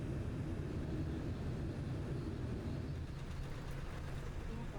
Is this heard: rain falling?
no